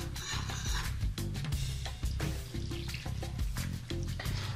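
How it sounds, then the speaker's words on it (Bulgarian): Warm water poured into a pot holding yeast and a little sugar for leek flatbread dough, a steady liquid splash with dripping and trickling, fairly loud and close throughout. "И наливам топлата вода."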